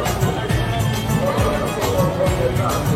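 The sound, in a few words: large crowd at Kalyani puja pandal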